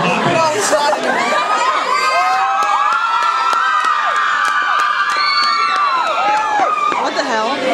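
A convention crowd screams and cheers continuously, with many high-pitched shrieks and whoops layered into a loud, sustained roar close by that barely dips for nearly eight seconds.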